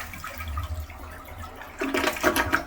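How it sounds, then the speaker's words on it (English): A residential toilet with a sewer main line problem flushes, a low rushing gurgle building into louder splashing water and swirling drain noise, close by with no talking. "Let's flush it."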